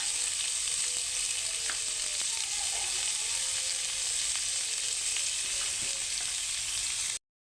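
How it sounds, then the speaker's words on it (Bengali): Potatoes fry in oil in a wok, making a continuous, fairly quiet sizzle with faint crackles and a stirring scrape or two. No voices are heard, and the sound cuts off abruptly at the end. "প্রথমে আলুটা ভাজুন"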